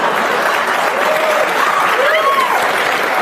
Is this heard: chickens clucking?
no